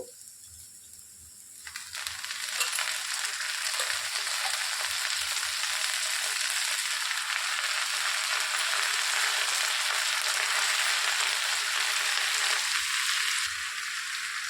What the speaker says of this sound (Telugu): ఈ విధంగా వేయించుకున్నాక కడిగి తీసుకున్న గోంగూరని ఇందులో వేసేసుకోవాలి.